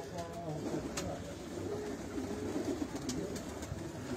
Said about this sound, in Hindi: ये ज़ाहिर है ये ब्रीडर कबूतर है, जोड़ों में है।